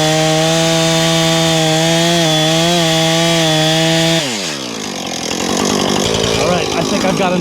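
A chainsaw runs at a high, steady whine, then bogs down as it bites into a tree trunk on the final felling cut, its pitch dropping into a rough, grinding labour close by.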